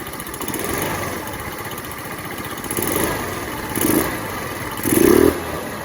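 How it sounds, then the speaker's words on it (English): A Lexmoto FMS 125 motorcycle engine idles roughly, then revs up to full throttle in short bursts, each rise louder than the last, the final rev the strongest. "It's got power, that was instant, that was full throttle and instantly revved up."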